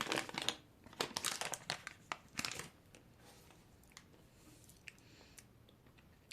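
Packaging of a purchased product crinkling as it is opened, bursts of close plastic rustling and crackling at first, then fading to sparse faint crinkles.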